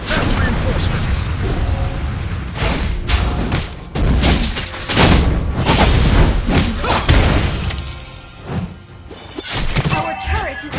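Dense mobile battle game action with repeated booms, thuds and crashes as a turret is attacked, a continuous loud barrage of impacts and effects with brief quieter gaps, with no talking.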